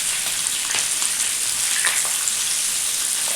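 Fish fries on a tawa without a semolina coating, giving a steady, bright, crackling sizzle with scattered pops, close and continuous, with no voices.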